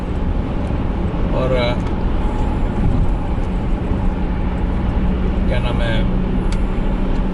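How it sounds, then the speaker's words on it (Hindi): Heavy road traffic on a widened multi-lane road in Brampton, Canada, with cars bumper to bumper, makes a constant dense rumble and hiss from close by, while someone speaks briefly over it. "लेफ़्ट साइड पे आप देखें ट्रैफिक का आलम।"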